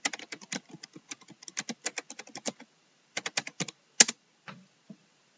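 Fingers tap out a book title on a computer keyboard in a library search field: quick runs of crisp, close keystrokes, a short pause, then another burst ending with a sharper key press and a few last taps.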